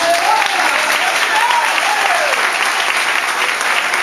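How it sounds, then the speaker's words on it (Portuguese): A church congregation applauds loudly in praise during a service, a dense continuous wash of clapping filling all four seconds with a faint voice rising over it. "Vamos aplaudir o Senhor por isso."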